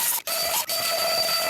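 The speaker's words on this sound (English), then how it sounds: "I have a stupid vacuum that will help me do this faster." A vacuum cleaner runs loud and close, blowing a freshly cleaned guitar neck dry with a steady whining roar. Two brief dropouts break the noise early on.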